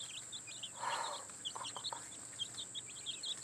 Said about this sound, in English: Look at these sweet baby chickens.